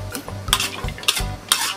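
Bean sprouts stir-fried over high heat in a pan, with a steady sizzle broken by three quick scraping tosses of the spatula.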